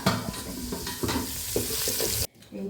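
Fish fries in a pan with a loud, crackling sizzle broken by scraping stirs, then the sound cuts off abruptly near the end, leaving near silence.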